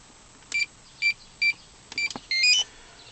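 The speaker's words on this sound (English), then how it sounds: "all I've got to do is punch in a code" Short electronic beeps from a keypad on a DIY keyless ignition fitted to a Mazda RX8, pressed in as a code is entered: about six single tones, then a quicker pair of higher beeps at the end. They are close and clear, with no talk.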